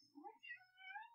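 Cat meowing, a couple of close, fairly faint rising and falling meows in a quiet room.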